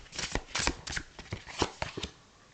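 A deck of cards is shuffled up close in quick, uneven riffling bursts and sharp flutters, fading toward the end, with no talking over it.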